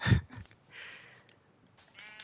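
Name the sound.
sheep bleating in Minecraft video game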